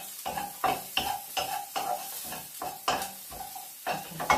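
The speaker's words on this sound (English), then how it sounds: "So you need to cook the spices so that the flavour will come out of them" Spices cook in a pan for chicken curry as a spoon stirs in regular strokes, each one a scraping clatter against the pan over a soft sizzle, about a dozen strokes, close and without talk.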